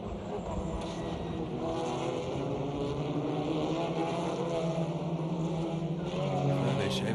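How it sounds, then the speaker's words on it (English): Touring cars from the 2017 TCR series race on track, engines droning loudly and steadily as a pack with a broad continuous roar, some commentary voice mixed beneath. "Proper touring car racing."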